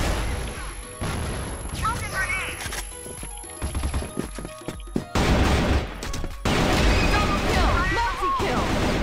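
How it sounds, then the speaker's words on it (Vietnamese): Rapid video game gunfire rattles in loud repeated bursts and scattered single shots, mixed with impacts and game effects, with voices talking intermittently underneath. "Trời ơi bắn vãi luôn"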